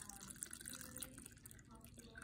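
Liquid poured over a screen covered in wet fibers while making handmade fusion paper, a soft, quiet trickle and splash with faint dripping.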